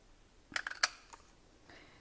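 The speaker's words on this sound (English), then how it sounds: "We're going to take a 3/4 inch circle punch and punch that out." A 3/4 inch paper circle punch snaps through paper in a quick cluster of sharp clicks, followed by fainter handling sounds and another click near the end.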